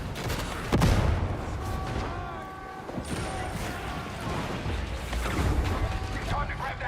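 In a combat video game, a grenade blast booms early, then scattered gunfire and mechanical clatter follow under a continuous roar of battle, with faint musical tones and voices mixed in.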